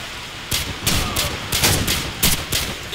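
Repeated gunfire in Call of Duty 4 Modern Warfare, a series of sharp shots in uneven bursts over a steady rumbling game backdrop, fairly close and loud.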